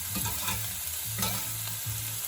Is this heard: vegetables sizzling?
yes